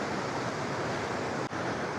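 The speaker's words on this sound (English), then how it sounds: "But you can probably hear the roaring river down below me." A river roars below a mountain trail on the way to Ypsilon Lake in Rocky Mountain National Park. The rushing water makes a steady, dense, loud roar with a brief dip partway through.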